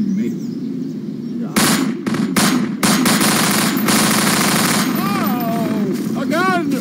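Rapid gunfire in Garry's Mod, bursts of loud automatic shots cracking in quick succession with short gaps, while a person's voice and chatter come in over the shooting.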